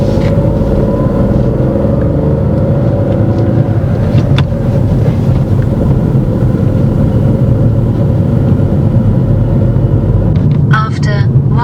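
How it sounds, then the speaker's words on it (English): A car accelerates uphill in first gear, a loud, steady low engine rumble heard from inside the cabin, with a brief voice breaking in near the end. "She builds up speed well in first gear before selecting second."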